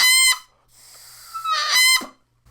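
A bagpipe chanter reed sounds in two short blasts, each breaking from a rough crackle into a bright, clear, reedy tone. A faint hiss fills the gap between them.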